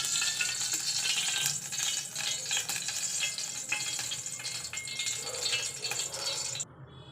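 Oil heats in a pan for tempering a Mandya-style rasam, giving a steady, close sizzling hiss with faint crackles and occasional stirring clatter throughout.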